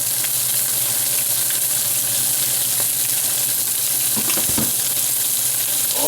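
Garlic sizzles steadily in a pan alongside top sirloin, a continuous broadband fry with a few brief clinks and stirring scrapes near the end, close and fairly loud.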